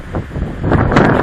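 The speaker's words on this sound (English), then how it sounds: "Wind. I'm so sick of the wind." Gusty outdoor wind in Utah buffets the microphone. The low rumbling roar swells louder toward the end of the short burst.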